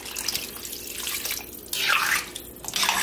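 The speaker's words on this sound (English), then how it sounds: "So in goes that water." Water runs from a tap into a pot of chopped ham scraps, a steady splashing hiss that swells louder near the middle before easing back.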